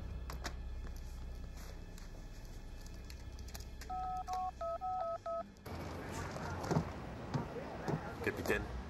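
A telephone keypad sends a quick run of about eight dialing beeps midway through, with quiet movement and background noise before and a louder rustling ambience after.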